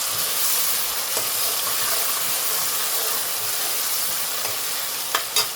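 Khaga fish is stirred while it fries in a pan, a steady close sizzle and hiss with a few soft scrapes and clicks of the spatula near the end.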